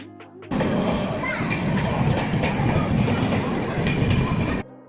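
A train running from Thane station toward Lonavala gives a loud, steady rumble with clickety-clack wheel noise. It starts abruptly after a brief quiet moment and holds until just before the end.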